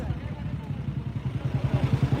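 A Royal Enfield Bullet motorcycle engine, stopped by traffic police checking for a modified silencer, thumps in a steady, quickening rhythm, growing slightly louder as it revs, with voices faintly behind.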